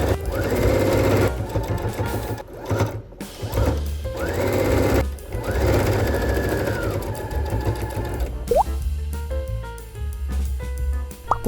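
A sewing machine topstitches the collar of a piped check pajama top with an edge-stitch presser foot where collar meets lapel; close, steady whirring runs broken by short pauses.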